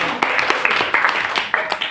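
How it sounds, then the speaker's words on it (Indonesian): A classroom of students claps for a classmate, a brief burst of scattered, uneven hand claps heard up close, with voices running over and between them. "Tepuk tangan buat Rapunzel"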